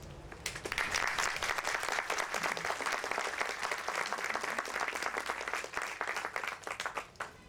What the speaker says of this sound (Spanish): muy merecidos esos aplausos para Eduardo Rodríguez.